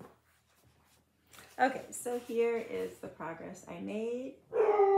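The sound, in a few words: dogs barking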